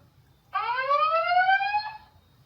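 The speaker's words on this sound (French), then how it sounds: "Une sirène." A single loud electronic siren blast rises slightly in pitch and holds for about one and a half seconds, then cuts off against quiet background.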